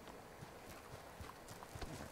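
A horse's hooves clip-clop in an uneven rhythm as it approaches in the Western game Red Dead Online. The quiet hoofbeats are heard alone.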